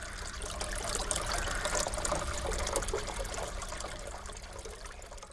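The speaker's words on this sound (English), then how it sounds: "Mom has made this lovely terrarium and water feature from Bosco's old lizard tank, which sounds and looks nice" Water trickles and splashes steadily in a small terrarium water feature built from an old lizard tank, a continuous close, soft babbling flow with no voices.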